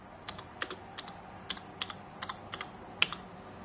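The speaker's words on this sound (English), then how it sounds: "Set the cursor for the text and write now my text." Close, quiet keystrokes come in an irregular series as text is typed on a computer keyboard in embroidery design software, with no one speaking.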